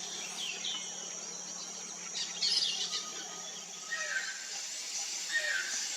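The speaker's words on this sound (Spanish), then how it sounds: "Sin embargo, por la vocalización, es el tucán de pico acanelado." A channel-billed toucan calls in Amazon forest at Loreto, Peru, giving a few faint, distant cries over a dense, constant hiss of insects and other birds.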